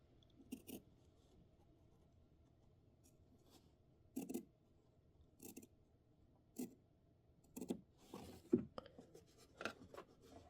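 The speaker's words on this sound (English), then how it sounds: "I'm just going to go ahead and cut it now." Scissors cutting fabric for a quilt border, with a handful of short, quiet snips and slicing scrapes spaced apart against a near-silent room.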